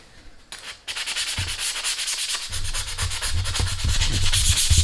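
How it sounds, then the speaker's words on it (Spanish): Sandpaper rasps steadily against a handmade, heat-treated steel knife blade in quick back-and-forth strokes, close and continuous, with no talking. "vamos a buscar una lijita y le vamos a dar una lijada para limpiar un poco la hoja"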